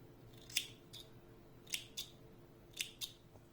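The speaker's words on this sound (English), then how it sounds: "I am making one chain and cutting the yarn" Scissors snip through crochet yarn at a handwarmer's finishing chain, three quiet paired cuts spaced about a second apart, close and crisp against a faint room hush with no talking.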